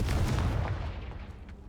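A single deep boom from the Confringo fire-blast spell in the game Hogwarts Legacy, loud at first and then rumbling away over nearly two seconds.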